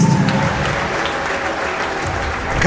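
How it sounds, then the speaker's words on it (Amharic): A church congregation at a deliverance service claps loudly and continuously, a dense, steady wash of applause filling the room throughout, with no voice rising above it. "ለእግዚአብሔር ክብር አጨብጭቡለት።"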